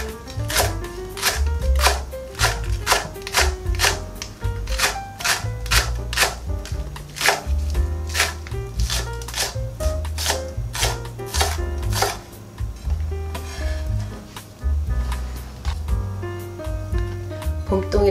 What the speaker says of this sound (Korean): 대파도 송송송 잘라주세요.